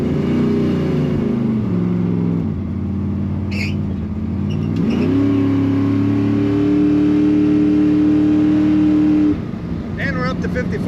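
A 1970 Chevrolet Nova V8 pulls hard, its loud, close engine note climbing steadily as it accelerates up to speed, with a brief dip in revs partway through and a driver talking over the rumble.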